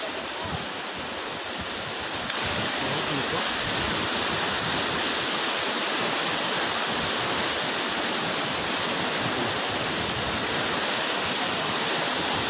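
Loud, constant roar of the Kupari Shua Sari waterfall, dense rushing water close by, swelling slightly after the start and holding steady without speech.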